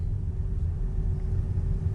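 A new car coasting at about 12 miles an hour, heard from inside as a low, steady road rumble with a faint, even hum and no talking.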